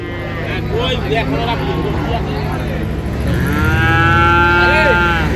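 A young Sahiwal bull calf at a cattle market gives long, loud moos close by, one drawn-out call after another, over a steady crowd hubbub with people talking in the background.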